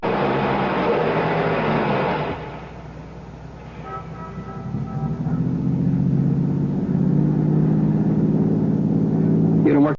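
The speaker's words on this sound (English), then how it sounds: "Start the car." A car engine turns over and settles into a steady driving rumble that swells louder toward the end, heard close in an old radio drama.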